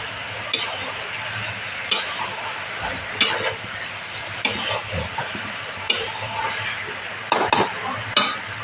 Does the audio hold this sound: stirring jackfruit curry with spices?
yes